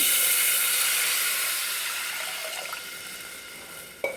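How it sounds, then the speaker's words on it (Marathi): Water poured into a hot pan over a chilli, curry leaf and spice tempering, a loud steamy hiss and rush that slowly fades, with a brief clatter near the end. "आता इथे मी पाणी घालून घेते"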